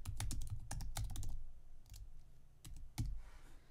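A password is typed on a computer keyboard, with quick bursts of close, crisp key clicks, a pause, then a few final taps, quiet and without talk.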